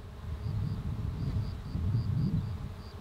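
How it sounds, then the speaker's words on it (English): Bees buzz in a lavender field in the South of France, a low, continuous droning hum that swells and eases outdoors, with no voices. "hearing the bees make all the work"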